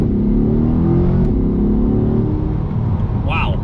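A 2020 Chevrolet Corvette C8 accelerates hard with a loud, steady engine roar rising in pitch from inside the cabin, while a voice speaks over it.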